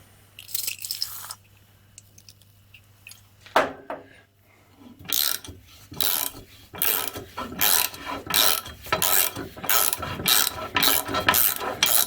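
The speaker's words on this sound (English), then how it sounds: "I'm now going to remove the bolt." Ratchet working a rusty bolt loose on Ifor Williams trailer brakes, with scattered scrapes and knocks at first, then a close, loud run of rapid repeated clicking strokes with no talking.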